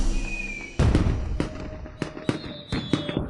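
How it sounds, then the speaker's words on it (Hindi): Fireworks burst over the capital in a quick irregular series of sharp cracks and pops, some louder and nearer, with a faint whistle before the first bang. "राजधानी में कोई आतिशबाजी क्यों कर रहा है?"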